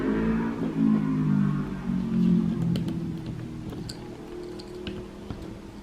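A motorcycle revs outside, a low rumbling engine swelling and easing over the first few seconds before fading to quieter idle with faint ticks.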